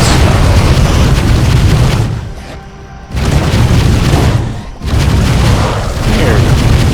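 Shooting in the video game Voidling Bound, heard as loud, dense, booming blasts that fill the soundscape, broken by two brief quieter gaps before the heavy bursts resume.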